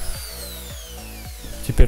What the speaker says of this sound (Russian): А в другом куске фанеры нужно сделать сквозные отверстия сверлом на 6.